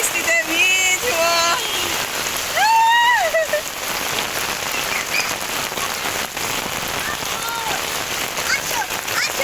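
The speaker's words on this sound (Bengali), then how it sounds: "এখন বৃষ্টিতে ভিজবো।" Heavy rain falls during flooding in Uttara, Dhaka, a steady dense hiss of drops on surfaces, with voices calling out and talking loudly over the downpour.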